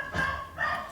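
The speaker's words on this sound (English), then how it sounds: "You don't even know why you're barking, do you?" Dog barking indoors, two sharp close barks in quick succession.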